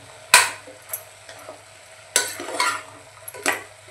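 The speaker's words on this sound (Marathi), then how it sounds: "छान मिक्स करूया।" A spoon stirs turmeric and Malvani masala into a cowpea, potato and brinjal bhaji in a pan. Several close scraping strokes sound over a soft sizzle, with no talking.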